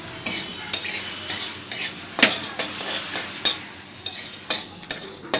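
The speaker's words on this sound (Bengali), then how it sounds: "এখানে আমি কিছু গোটা মশলা নিয়েছি সর্ষে, গোটা জিরে, শুকনো লঙ্কা আর একটু পাঁচফোড়ন। এগুলো আমি ভেজে নিচ্ছি" Whole mustard seeds, cumin, dried red chilies and panch phoron dry-roasting in an empty wok: a spatula scrapes and clinks in a steady, close rhythm with a faint crackle underneath.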